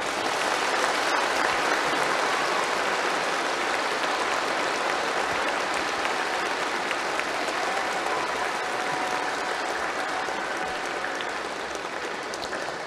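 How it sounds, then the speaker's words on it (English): Sustained audience applause fills a school awards ceremony at a closing service, steady and dense for the whole stretch with no voices over it. "Please give them a round of applause."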